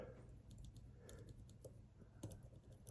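Tiny clicks of lock pins setting while an Ingersoll lock is picked, a faint irregular ticking of small light taps over a steady low background hum, close and quiet.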